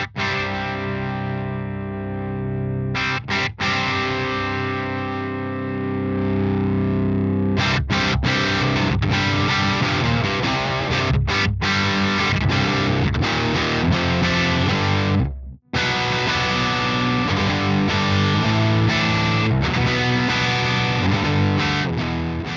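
Crunchy distorted electric guitar through a Bogren Marshall JVM410H amp plugin with no reverb, a held chord giving way to a dense riff of chugging chords and choppy stops, loud and up front, with one brief break near the end.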